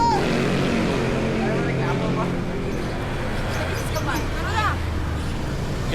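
A boat's motor drones steadily on the water, a continuous low engine rumble under people talking and calling out nearby.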